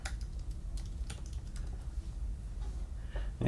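A password is typed on a computer keyboard as a quick, irregular run of soft clicking keystrokes, faint and close, with no voices.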